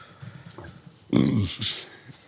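A single short, loud burp erupts in the middle, with quiet murmuring voices before and after.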